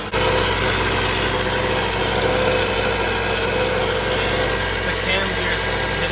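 Honda CR-V engine running steadily after a test start, a continuous close idle hum with a faint mechanical pulley noise woven into the drone.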